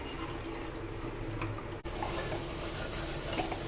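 Water pours into a pan of roasted chickpeas and spices for chole, a steady running splash that continues alone with a brief break partway through.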